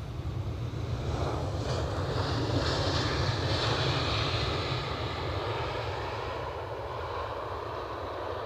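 A plane lands at Edinburgh Airport, its engine roar a steady broad rumble with wind buffeting the microphone. The sound holds at a constant, moderately loud level throughout.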